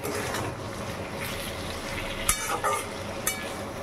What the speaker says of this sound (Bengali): আলুটাকে দিয়ে ভালো করে ভেজে নেব।